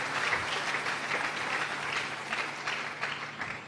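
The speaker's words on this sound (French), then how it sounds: "Est-ce que nous pouvons acclamer" A church congregation applauds steadily and warmly for several seconds, a dense, even wash of clapping with no voices rising above it.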